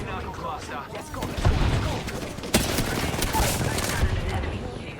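Gunfire crackles through a video game battle in a steady, dense spray of distant shots, with a few sharper, louder cracks standing out, while voices and game sounds run underneath.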